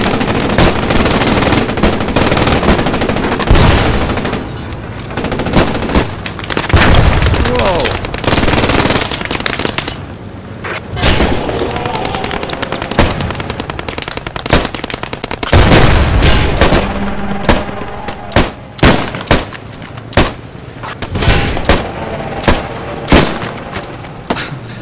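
Gunfire in the WWII shooter game Post Scriptum during a village battle: dense bursts of automatic and single shots, loud and close, with booms and distant firing throughout and a voice briefly under the shooting.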